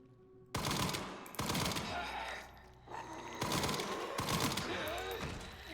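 Rapid bursts of automatic gunfire in the video game Requiem, loud and close, coming in several sustained volleys separated by brief gaps, with no talking over them.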